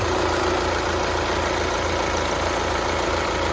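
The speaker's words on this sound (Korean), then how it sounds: "냉각수 묶고 시동 걸었는데 엔진 소리 굉장히 좋습니다" A Volkswagen CC engine idles just after a cold start following timing belt and coolant work, giving a steady, even hum with a faint ticking texture, close and continuous with no speech.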